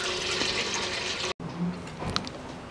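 Engine oil pours from the drain plug of a Toyota Corolla 1.6, a continuous liquid gush and splatter heard close up, briefly cut off and then resuming more quietly.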